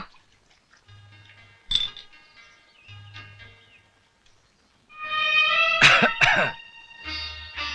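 A man coughs and clears his throat in a short harsh burst, loud and close, after quieter scattered sounds and a faint creak.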